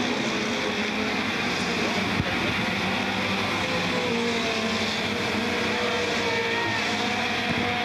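Mini stock race cars roar around a short oval at Smoky Mountain Raceway, a continuous engine drone that swells and fades as cars pass in lap traffic.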